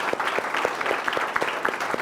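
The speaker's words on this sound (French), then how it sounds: "on va applaudir encore très fort pour lui" Audience applause at an entrepreneurship training event, moderately sized crowd clapping steadily with a few distinct sharp individual claps standing out.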